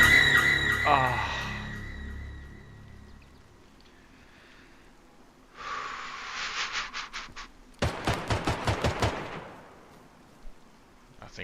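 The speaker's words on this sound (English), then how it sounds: "A flurry of gunshots." Flurry of gunshots in the survival game DayZ: a burst of rapid sharp cracks around the middle, then a second denser volley of close, loud shots, with quieter gaps between and some game ambience.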